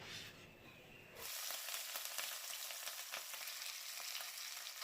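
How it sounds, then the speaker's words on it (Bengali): Katla fish frying in mustard oil in a pan, a dense crackling hiss that surges up after a quieter opening and holds steady and close. "এবারে আমি মাছটা এক এক করে ভেজে নেব"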